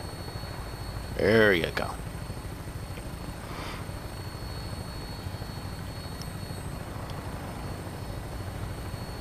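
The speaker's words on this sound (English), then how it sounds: "So we are taking the chopper there." A helicopter in the video game Fallout 4 drones with a steady rotor chop throughout, loud and continuous under a brief spoken remark, with a short sweeping whine partway through.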